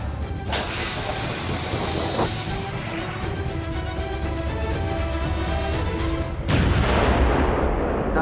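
A torpedo launched at a ship in a submarine video game, with a long heavy rumbling roar that holds steady and then swells into a louder deep impact boom near the end, with no voices.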